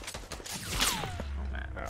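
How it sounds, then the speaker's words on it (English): Rapid gunfire bursts from a multiplayer shooter video game crackle close and busy, with a whooshing sweep and mechanical clatter, while a player talks over the action. "I'm getting shot at by other people, Zach."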